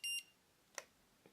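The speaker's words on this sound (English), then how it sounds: "there's a low beep sound to the" A short electronic beep from a Nursal forehead thermometer sounds at the start, followed by two faint clicks; otherwise quiet.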